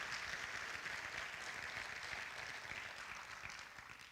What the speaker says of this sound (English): And while we are applauding